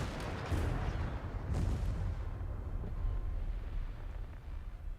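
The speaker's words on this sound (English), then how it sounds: "Indian artillery." Indian artillery pounding away in a Total War battle against Cathay, a dense, continuous rumble of heavy booms with a couple of louder blasts early on, steady and loud throughout.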